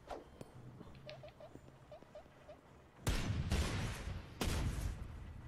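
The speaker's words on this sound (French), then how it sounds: "Et donc là je vais lui lancer une petite grenade. Ah, fragmentation nette." In Worms Battlegrounds, small squeaky cartoon chirps and light clicks come first. Then a fragmentation grenade goes off in a loud burst, followed by a second blast a little over a second later, each with crackling debris.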